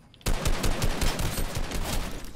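Rapid automatic gunfire from a bot shooting in a video game, a loud dense burst of shots that starts suddenly after a brief quiet moment and continues without pause to the end.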